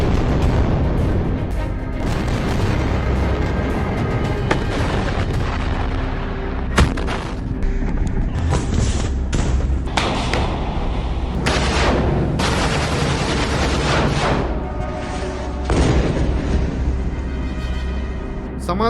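Gunfire and explosions in Gaza rumble loudly and continuously, with dense overlapping bursts and booms layered over a steady low roar and sharp reports recurring throughout.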